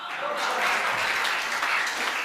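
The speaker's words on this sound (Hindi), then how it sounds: "आप लोगों को तालियां बजानी ही होगी" Audience applause at a Hindi comedy poetry gathering, a steady dense wash of many hands clapping, fairly loud and continuous, with faint voices mixed in.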